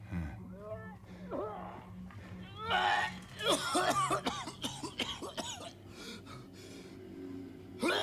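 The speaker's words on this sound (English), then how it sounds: "I hear someone cough." Several sharp coughs from a Silent Hill 2 Remake video game come in a rough cluster, mixed with throat-clearing sounds, while a person talks over and between them.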